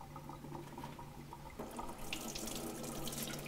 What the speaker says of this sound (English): we've rinsed these under cold water and removed the glaze